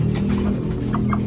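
A rooster clucks nearby in low, throaty bursts over a steady background hum, with a couple of brief sharper notes near the end.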